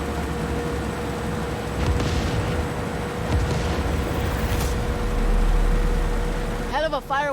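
Explosions in the video game Far Cry 6 rumble as a series of deep, muffled booms over a continuous low roar, mid-distance, before a voice starts speaking near the end.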